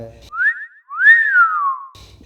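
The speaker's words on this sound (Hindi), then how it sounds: "सीटी बजाते हुए कहने लगा" A man whistles two clear rising-and-falling tones, the second longer and sliding downward, loud and close, with only brief traces of other sound at the start and end.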